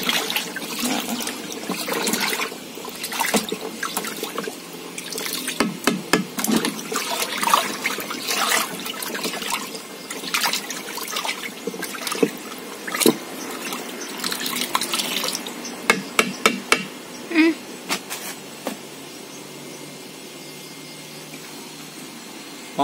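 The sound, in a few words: shaking liquid organic fertilizer in container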